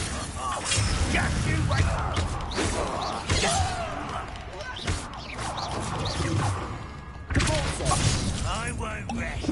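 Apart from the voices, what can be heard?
Confringo blasting spell in the Hogwarts Legacy video game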